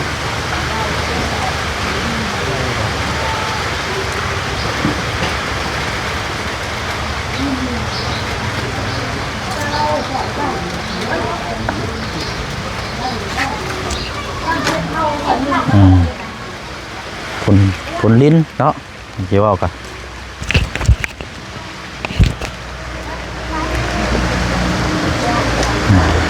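Rain falls in a steady, even wash of noise that runs the whole time under ongoing conversation. Several people talk over it, and a few louder knocks and handling sounds stand out partway through.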